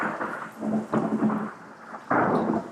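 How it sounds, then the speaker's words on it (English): A desert thunderstorm with hail: deep rolling thunder comes in surges, with a heavy hiss like rain or hail pelting down throughout, close and loud. "That is hailing and thundering lightning, which is awesome because this is the desert."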